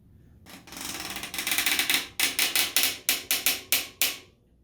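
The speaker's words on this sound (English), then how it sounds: "now I can install my wrench on here and tighten this up the rest of the way" A wrench ratchets a bicycle cassette lock ring tight on a wheel, giving a run of sharp, evenly spaced clicks that speed into a steady rhythm, close and fairly loud.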